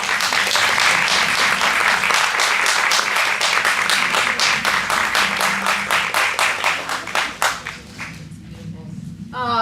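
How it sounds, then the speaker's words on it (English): An audience at a storytelling event bursts into sustained, dense applause, loud and close, which thins into scattered individual claps before fading near the end. "Another round of applause for Gina"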